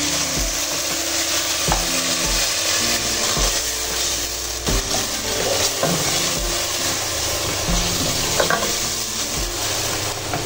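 Browned onions with a tablespoon of garlic-ginger paste sizzle loudly in a pan while a spoon scrapes and stirs repeatedly, a dense, continuous frying noise close up with no talking.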